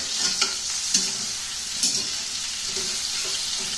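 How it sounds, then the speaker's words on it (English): Lamb chops and potatoes sizzle steadily in a frying pan, with a few sharp clatters as the pan is tossed and the food is stirred, a continuous broad hiss under everything and no one talking. "you might want to hold your pan and just toss it"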